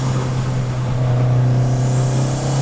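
A fully built, modified Mitsubishi Lancer Evo V runs with a steady, loud, low engine drone, holding an even pitch throughout without revving or talk.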